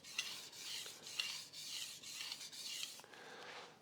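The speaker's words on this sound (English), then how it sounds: "I'm going to start a forward and backwards kind of sweeping motion across the top of my sharpening stone" Kitchen knife blade sweeping forward and back across a wet sharpening stone, a steady series of close raspy rubbing strokes in an even rhythm, with no voices.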